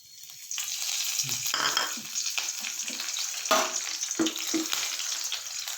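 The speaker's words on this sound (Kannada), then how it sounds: "ಇವಾಗ ಎಣ್ಣೆ ಕಾದಿದೆ ಇದಕ್ಕೆ ನಾನು ಕರ್ಬೇವು ಹಾಕ್ತಾಯಿದ್ದೀನಿ" Curry leaves dropped into hot oil in a pan for pumpkin curry crackle and sizzle loudly, with bursts of spattering over a steady hiss, close up and without speech.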